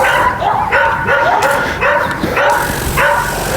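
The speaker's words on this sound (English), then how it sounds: "The dogs are going crazy right now." Several dogs bark and yip excitedly nearby on a lawn in loud, rapid repeated bursts, some barks rising into whining yelps.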